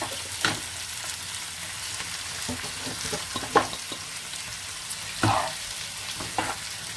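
Spring onions and chopped tomatoes fry in a kadai with a soft, steady sizzle, broken by occasional scraping stirs and light clinks from a utensil, close by and with no talking.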